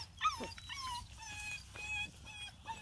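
A beagle puppy whimpers in thin, high, wavering whines and short yips, fairly quiet and close, repeating in a few soft bursts.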